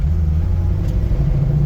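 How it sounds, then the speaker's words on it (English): A 525-horsepower 1968 Ford Mustang on the road, its engine a steady low rumble, loud and close, with no talking. "So we're driving Don's Mustang today"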